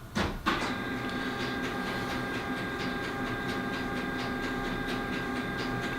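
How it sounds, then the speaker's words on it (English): A printer runs continuously after an opening clunk, a steady mechanical whir with regular ticking pulses, moderately loud and close, with no voices. "Pulverised printer."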